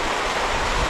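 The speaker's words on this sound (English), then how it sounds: "The waterfall coming from the lagoon." A waterfall pours out of a lagoon near Ushuaia in Patagonia, Argentina, making a loud, steady broadband rush of falling water up close, with no pauses.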